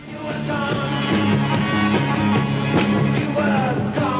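Buzzing fuzz-toned electric guitar playing steadily through a dense rock band mix in a 1966 song, loud and continuous.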